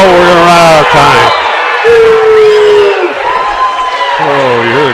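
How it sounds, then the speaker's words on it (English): Crowd at a 3A and 4A regional wrestling finals loudly shouting and calling out together, a dense roaring wall of voices with rising yells, heard close and continuous for about five seconds. "you hear the crowd calling for 2 points for Kobe Duncan"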